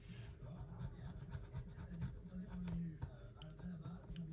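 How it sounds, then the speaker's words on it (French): A scratch card being scratched, with close, quiet rubbing and rasping strokes in short, uneven bursts. "je vais gratter quand même celle-ci"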